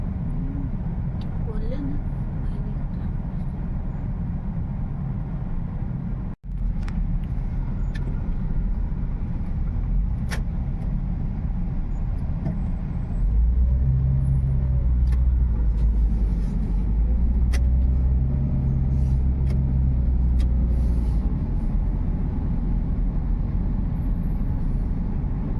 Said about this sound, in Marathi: ट्रॅफिक आहे.